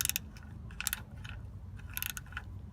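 A ratchet with a 16mm socket tightens a vehicle's oil drain plug, giving short bursts of quick metallic clicking in several separate runs over a low steady background hum.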